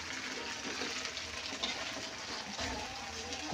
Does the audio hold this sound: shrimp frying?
yes